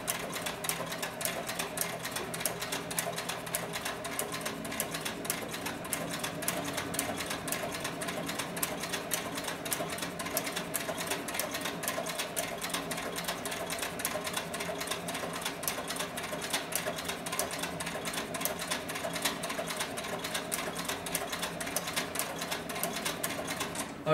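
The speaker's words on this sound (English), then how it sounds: "you'll see that the speed of the sewing machine can pick up." Cowboy CB4500 industrial arm sewing machine running steadily, a dense rapid needle clatter that holds a continuous fast rhythm throughout, close and moderately loud with no talk.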